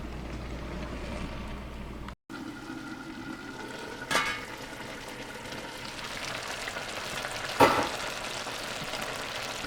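Chopped cabbage for a stir fry cooks covered in a pot, giving a steady low sizzle and simmer throughout, with a couple of brief clatters from the lid or pot, and no talking.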